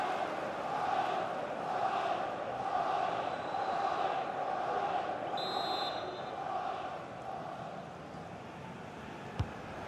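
A stadium crowd in the football video game FIFA 23, an Arsenal vs West Ham Premier League match, a steady broad roar of fans swelling and ebbing, with a brief whistle-like tone partway through.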